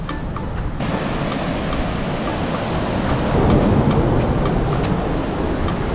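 Loud, continuous roar of surf breaking on a beach at a resort in Santa Maria, Cuba, with a broad steady wash that swells slightly midway, close and unbroken, no voices.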